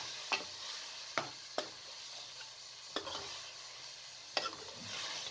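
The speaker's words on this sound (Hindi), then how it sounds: "तमाम चीज़ों को अच्छे तरीके से मिक्स कर लें।" A spoon stirs mutton karahi with dry spices and yogurt, making four or five sharp scraping strokes against the pan over a faint background sizzle, with no talking.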